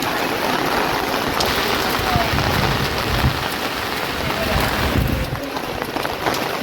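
Heavy monsoon rain pours down steadily outside a flooded housing society, a dense, loud, unbroken hiss of drops hitting surfaces close by, with no talk over it.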